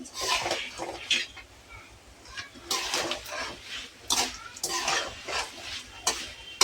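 A spoon scrapes and clatters around a pan while food is stirred to keep it from burning, in irregular bursts of metallic scraping close by, with a faint murmur of background noise.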